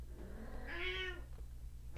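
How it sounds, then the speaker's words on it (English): Cats meowing indoors, a single clear drawn-out meow rising and falling over a steady low electrical hum, close and moderately loud. "the cats are noisy."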